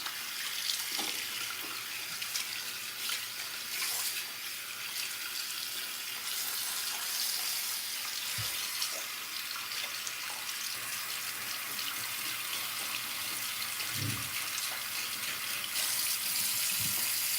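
Tap water runs steadily into a basin while hair is rinsed out during a wash-and-style routine, a continuous close hiss broken by occasional soft splashes and knocks.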